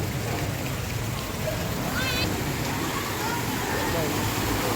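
Heavy rain falls during a thunderstorm in Junagadh as a dense, unbroken roaring hiss that holds at the same level throughout, with faint voices underneath.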